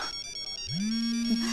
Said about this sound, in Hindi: हमारा भी फोन आ गया, बताइए ना।